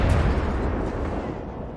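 Heavy cannon fire in the Total War: Warhammer 3 battle, a dense rumbling barrage of booms that opens loud and stays thick and low throughout with no talk.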